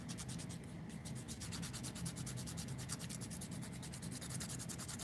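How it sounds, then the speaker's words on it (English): A small nail file rubs back and forth across the end of a fingernail in quick, steady strokes, close and continuous with no talking. "Just filing just the end of my nail down."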